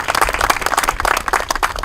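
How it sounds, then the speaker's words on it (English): A crowd at a grave flagging ceremony applauds first responders, a short burst of dense, fairly close clapping from many hands. "could I just get a round of applause for all of our first responders?"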